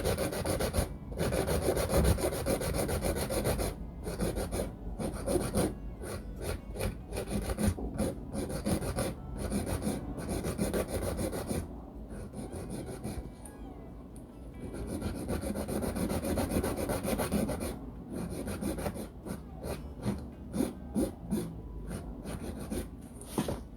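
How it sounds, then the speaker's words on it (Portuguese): A nail drill bit files the tip of a polygel nail with a close, dry, scratchy rasp. The rubbing comes in strokes with short pauses between passes, and no one speaks. "Vou vir com a mesma broquinha que eu lixei a superfície."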